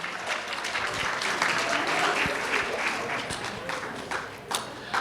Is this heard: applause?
yes